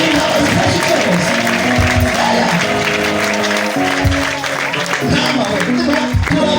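Congregation applauding God at a church gathering in Bicumbi stadium, a dense wash of clapping under music and voices that keeps going steadily for the whole stretch.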